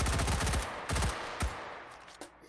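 Rapid bursts of automatic 416 rifle fire in a tactical shooter game, a loud sustained volley followed by a few separate sharp shots trailing off.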